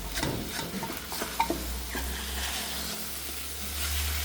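Egg frying in a pan for Pad Thai, stirred and flipped with a spatula: a soft, steady sizzle with scattered scrapes and light taps, over a low background hum.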